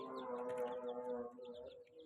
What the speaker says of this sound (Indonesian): Anak ayam umur 6 hari.